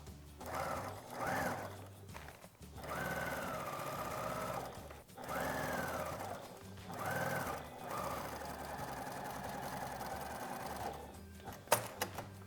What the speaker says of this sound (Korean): 8cm를 띄우시고 봉제를 끝까지 해주시면 돼요